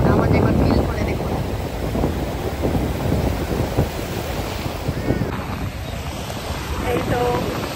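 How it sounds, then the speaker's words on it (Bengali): Sea waves break and wash onto the beach at Mandarmani at sunset, a loud continuous surf roar with wind buffeting the microphone and surges swelling and fading. "দেখুন কত ঢেউ আসছে"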